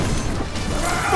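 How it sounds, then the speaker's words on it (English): A heavy, crashing proton cannon blast rings out amid dense game noise in Marvel vs. Capcom: Infinite, with a rising whine toward the end. "It's the big one. Proton cannon."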